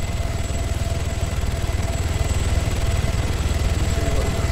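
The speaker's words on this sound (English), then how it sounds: "Helicopter." Helicopter in the Arma 3 video game, a loud, steady rotor thump and engine whine, close and continuous throughout, with no talk over it.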